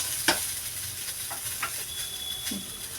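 Tomato masala stirred in a pan for tomato saaru: a steady close sizzle of frying with a few sharp scraping strokes of the spoon against the pan, no voices.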